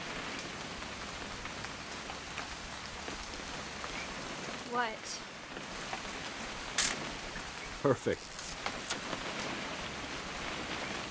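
Steady rain falls throughout a scene in the video game What Remains of Edith Finch, a constant wash with a few brief louder bumps, while voices exchange short lines over it.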